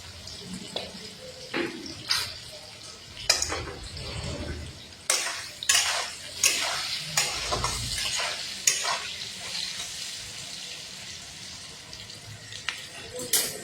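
Potatoes frying in a pan for a pangas fish curry, a moderate sizzle broken by repeated stirring scrapes and clatters of a utensil against the pan.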